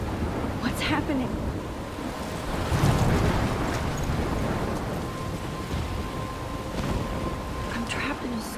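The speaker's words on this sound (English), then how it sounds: "I'm trapped in a storm?" Thunderstorm with rain and wind in the video game Life Is Strange Remastered, a constant rushing wash of rain and gusting wind with a deep thunder rumble swelling in the middle.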